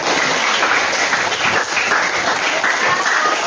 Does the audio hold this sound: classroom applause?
yes